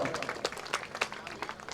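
A short burst of crowd clapping at a Gujarati dayro folk program at a temple in Navsari, irregular hand claps close and moderately loud, with no speech over them.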